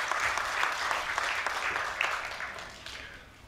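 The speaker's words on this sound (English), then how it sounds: "Would you give him big applause?" A large audience applauds at a 2015 global talent forum on entrepreneurship after a professor is introduced: dense, sustained clapping that is loud at first and slowly tapers off.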